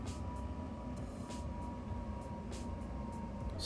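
Roblox British Railway train passing as a steady low rumble with rolling wheel noise and periodic higher clacks from the rails, fairly faint and continuous throughout, with no voices.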